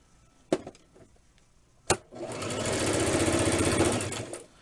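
A sewing machine stitches a small side seam on a Barbie doll dress; two sharp clicks come first, then a steady, close whirring run of about two and a half seconds that fades at the end.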